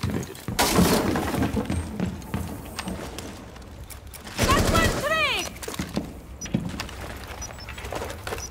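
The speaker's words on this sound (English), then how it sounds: "they just shot up in this window" Gunfire in Rainbow Six Siege on the Kanal map: sharp bursts of shots with glass breaking and shattering, in loud game noise with people talking.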